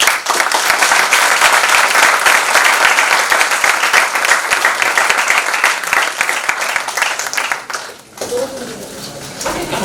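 Loud, dense applause from a large audience at a company workshop event fills the room continuously for several seconds before briefly dipping and resuming.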